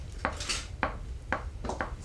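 A spatula scrapes and clacks against a bowl while stirring cream cheese, four or five short, close knocks in a loose rhythm with no talking.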